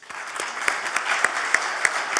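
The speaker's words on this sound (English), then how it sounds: "let's give Dave a round of applause" Applause at an energy conference as a speaker is welcomed, a moderate crowd clapping steadily with a few sharp, close hand claps standing out at regular intervals.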